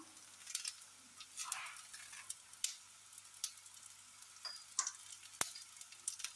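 A quiet, steady sizzle of onions and chilli frying in a pan, with scattered ticks and clinks of stirring.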